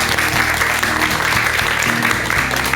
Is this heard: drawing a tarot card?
no